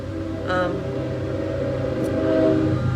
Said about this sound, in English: I swear I go to film a video and there's a train that goes by.